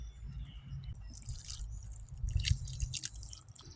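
Water poured from a watering can onto freshly planted zucchini seeds in garden soil, a close, irregular splashing and dripping trickle that swells toward the end, with no talking.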